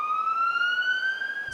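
A police siren holds a high, slowly rising wail with no talking, steady and moderately loud for under two seconds before cutting off.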